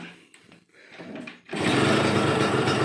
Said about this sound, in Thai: เดี๋ยวมาฟังเสียงเครื่องครับ